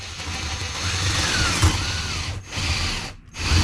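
A drill bit bores steadily through Luan plywood in an RV floor, a continuous whirring grind with a couple of brief dips where the bit eases or breaks through.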